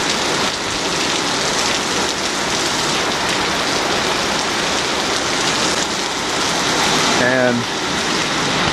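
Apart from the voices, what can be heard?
very heavy rainstorm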